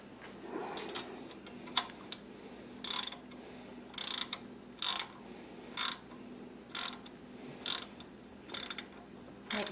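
A ratchet wrench on a 15 mm fitting tightens an oil catch can fitting on a car, giving short bursts of rapid clicking repeated at a steady pace, close and clear over quiet background.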